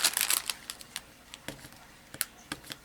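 Decorative paper sheets slide out of a plastic wrapper with a run of sharp crinkles and rustles, then scattered soft clicks and crackles, close and fairly quiet.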